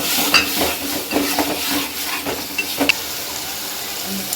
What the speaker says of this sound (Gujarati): હવે ટમેટા અને મરચાં આપણે સારી રીતે મિક્સ કરી દઈશું।